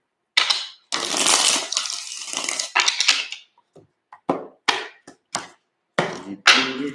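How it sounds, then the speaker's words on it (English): A deck of tarot cards is shuffled in several brisk, crisp riffling bursts, close and fairly loud, separated by short silences and a few quick taps. "3 shuffles."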